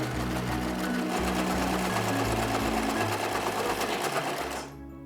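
A sewing machine stitches fabric in a fast, steady mechanical whir with rapid needle clatter, close and loud, running continuously before stopping abruptly near the end.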